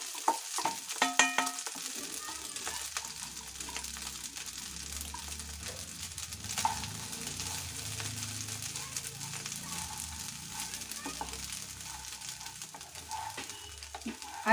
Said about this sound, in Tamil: ரெண்டு நிமிஷம் நெய்யில் பாஸ்மதி ரைஸை நல்லா வறுத்துக்குங்க.